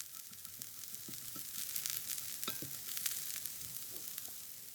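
Cabbage frying in a pan, a steady close sizzle with a few soft stirring knocks and scrapes, no voices.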